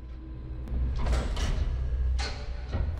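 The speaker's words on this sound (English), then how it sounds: "My door's fully extended open" A ship door in the sci-fi game Marauders slides open with a sustained mechanical hiss and rumble, punctuated by a few sharp clunks, loud and close with no talking.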